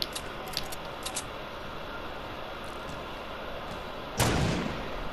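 In the Fortnite video game, a grenade bursts near the end as a sudden loud blast with a brief roar, heard over constant gameplay noise and faint rustling.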